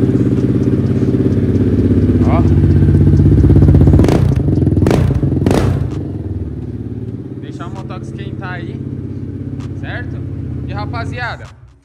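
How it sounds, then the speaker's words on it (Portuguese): A Honda CB Twister motorcycle starts up and settles into a loud, steady idle close by, with a few sharp clunks and thumps early on and brief bursts of higher engine noise. "vamos ligar o motoca aqui"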